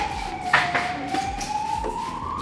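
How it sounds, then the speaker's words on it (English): An emergency vehicle siren wails outside while passing, its rising tone steady and fairly distant, with light taps and handling noises nearby during film wrapping of a Toyota 79 Series bonnet. "You can hear our beautiful sirens here."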